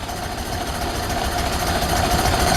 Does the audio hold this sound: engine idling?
yes